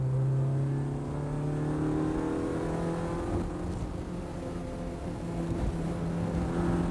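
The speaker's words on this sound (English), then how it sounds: "Mardi Gras boss Martin Shaw ushered the car back out of the pits onto the circuit." Honda saloon race car at a 1994 National Saloon Car Cup round leaving the pits onto the circuit, a steady droning engine tone that shifts pitch as it pulls away, loud and continuous without talking.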